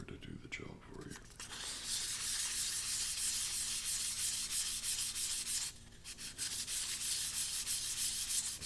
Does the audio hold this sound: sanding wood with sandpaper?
yes